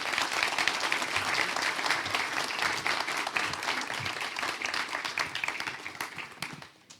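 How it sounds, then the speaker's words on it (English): Audience at an emergency-services conference session applauds the presenters, a dense, steady wash of many hands clapping for about seven seconds before tapering off at the end. "we'll give all of our presenters a round of applause"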